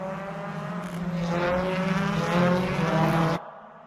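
Race cars lap a British Touring Car Championship circuit in a video game, a dense, steady engine roar with whining gears that swells slightly before cutting off abruptly, with no voices.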